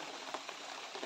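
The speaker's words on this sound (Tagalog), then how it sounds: "Lumalakas na yung ulan eh." Heavy rain pours down steadily outdoors in a dense continuous hiss, with a few louder drops spattering close by and no talking.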